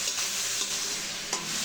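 Egg noodles sizzle steadily in a hot pan just after soy sauce goes in, with a dense continuous frying hiss broken by a few soft scraping stirs, close and alone.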